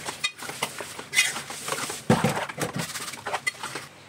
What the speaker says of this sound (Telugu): చికెన్ వేసేద్దాం.